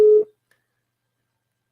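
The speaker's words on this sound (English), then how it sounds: "So the phone is ringing." A single short electronic tone from an outgoing telephone call sounds loudly for a fraction of a second, then cuts to silence.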